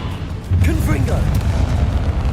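Loud booming blast from the Confringo fire spell in a Harry Potter video game, a low rumbling burst that kicks in sharply and rolls on over swooshing magical effects, with a voice shouting the spell over it.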